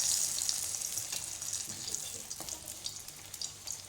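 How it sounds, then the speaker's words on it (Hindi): Puri fries in hot oil in a wok, giving a soft continuous sizzle with crackling spikes and a little water spattering, faint and steady with no talk. "पक रही पूरी।"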